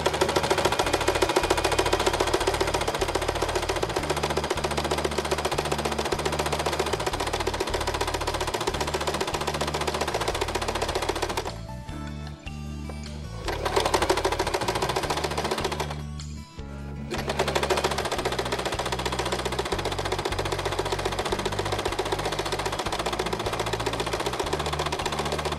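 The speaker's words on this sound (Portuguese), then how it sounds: "vou baixar a agulha aqui, o pedal e faço a última costura" Sewing machine stitching the last seam of a placemat, a fast steady mechanical clatter running for long stretches with two brief pauses, close and loud, with no talking.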